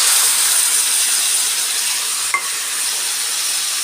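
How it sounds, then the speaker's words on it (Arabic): Cumin and tomato paste sizzle in a pan, a bright, steady hiss close up, with a single scrape or click partway through. "هستنى بس تتحمر بسيط كده"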